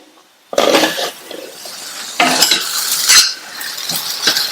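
Plantain curry being stirred in a pan, with a spoon scraping and clinking in several loud close bursts separated by short pauses.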